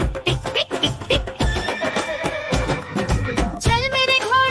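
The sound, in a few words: horse neighing and hooves in a nursery rhyme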